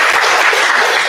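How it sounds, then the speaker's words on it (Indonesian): An audience at a university law faculty's year-end reflection event breaks into dense, loud applause, many hands clapping together in a continuous burst with no voices. "Kita beri tepuk tangan untuk"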